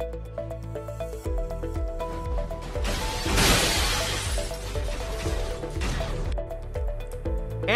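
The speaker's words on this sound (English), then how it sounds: "Ninja Freddy reveals some amazing glass-shattering AI racer mayhem." Glass shattering in a chaotic AI racer video game, a loud burst of crashing, breaking shards rising over a pulsing electronic music track and then fading back under it.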